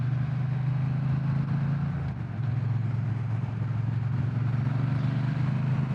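Triumph Bonneville T120 Black motorcycle engine pulling steadily in sixth gear at road speed, a loud, continuous low droning hum with a brief dip partway through and no talk over it.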